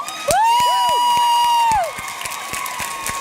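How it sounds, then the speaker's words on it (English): An audience at a school musical theatre show cheers and claps, with one long, piercing whistle held over scattered applause before the noise settles. "can we get just one final round of applause for all of these people and the actors?"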